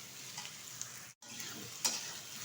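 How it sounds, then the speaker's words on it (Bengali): Ivy gourd and potato curry sautéed in a pan over high heat, a soft continuous sizzle with a few light scrapes of stirring and a brief drop to silence midway, quiet and close, with no talking. "ভালোভাবে কিন্তু আমি কষিয়ে নিচ্ছি।"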